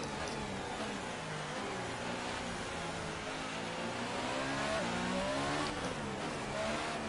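Formula 1 car engine in the F1 2018 video game at the Hungary circuit, a steady loud high-pitched whine with rising and falling revs as the car warms its tyres, continuous for several seconds with no talk.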